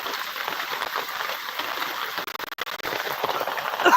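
Heavy rain pours down in the Konkan countryside, a dense, steady hiss of drops close by that runs unbroken for the whole stretch, briefly dipping and thinning for a moment before swelling back to full strength.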